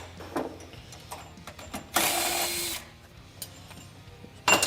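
A power tool removes the two bolts on the battery hold-down of a Kawasaki Teryx KRX 1000, giving a close, brief whirring burst of a little under a second among light handling clicks, then a short second burst at the end.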